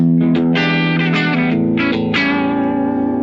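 A distorted electric guitar with its tone knob wide open plays a short run of bright, ringing notes with a full, open treble tone, loud and close, with no voices.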